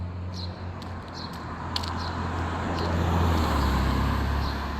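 A car rushes past on a road, its low engine rumble swelling louder as it nears, over steady traffic noise and a few faint higher clicks.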